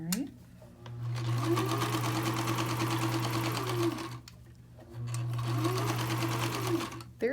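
A sewing machine stitches fleece mittens in two sustained close-up runs, its steady rapid whir separated by a brief pause and a few soft handling clicks.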